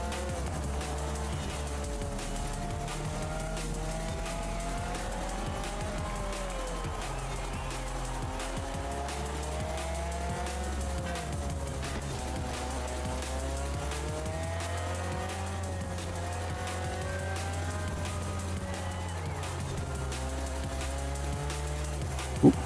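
Race cars in Forza Horizon 4 tear around a tight track, engines revving up and down in waves with repeated tire squeals, a continuous loud game mix running throughout.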